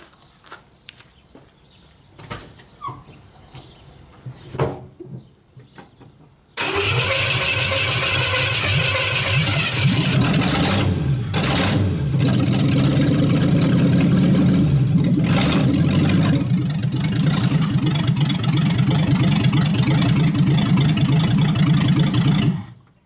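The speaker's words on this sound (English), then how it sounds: "I'm going to back the car up about 5-6 feet" A Maverick car engine cranks and catches, then idles loudly and steadily for about sixteen seconds as the car backs up, with slight rises in revs and a sudden cutoff, following quiet shuffling.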